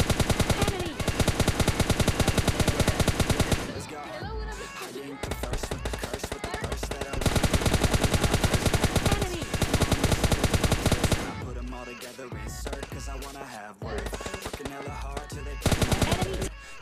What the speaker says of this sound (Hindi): मैंने 90 M4 की एमओ इस पर फायर कर दी